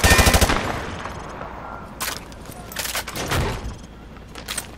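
Weapons firing through light cover in Call of Duty Modern Warfare 2 Remastered: a loud rapid machine-gun burst up front, then several separate heavy gunshots with echoing tails, spaced a second or so apart.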